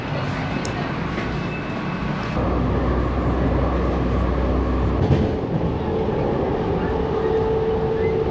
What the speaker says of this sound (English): that was actually a really nice train ride